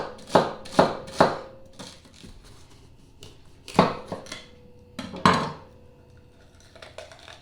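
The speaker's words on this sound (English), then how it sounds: "chop up all my vegetables, and the celery I'm going to start with, and I do it real fine" A knife chops celery finely on a board: sharp, close taps in quick bursts of three, then a pause and more scattered cuts.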